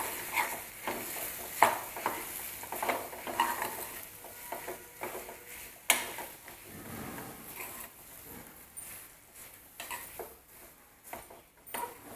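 A spoon stirs bread pakoda batter mixture in a pan on low heat, giving irregular scrapes and taps over a soft sizzle, close and fairly quiet, with no talking.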